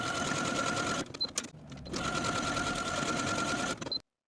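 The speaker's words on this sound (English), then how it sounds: "Now I'm going to take this to my machine and sew my two buttonholes." A sewing machine stitches buttonholes on fabric for a swimsuit cover-up, running in a steady fast whir close by, pausing briefly for about a second before running again and stopping at the end.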